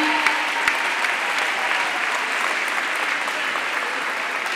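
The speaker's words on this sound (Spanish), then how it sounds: "Les pido un fuerte aplauso para el Ari." Audience at a provincial education congress applauding, a dense, loud, sustained round of clapping from a large crowd that fills the whole stretch without pause.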